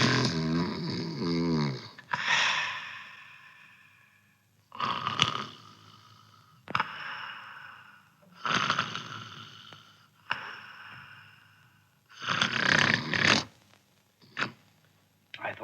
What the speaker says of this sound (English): I thought you'd like to know you've been snoring.